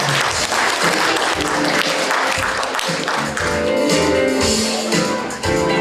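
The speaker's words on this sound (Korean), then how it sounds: "여러분 힘찬 박수로 축하해 주세요." An audience at a Tuberculosis Prevention Day award ceremony claps loudly and continuously for an award winner, a close, dense patter of many hands, with faint voices mixed in near the end.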